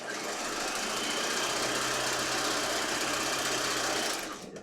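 A sewing machine runs steadily for about four seconds, stay stitching along the edges of muslin fabric at a half-inch seam, the motor's hum continuous and close before it stops.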